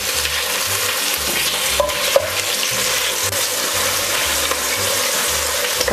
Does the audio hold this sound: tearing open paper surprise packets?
no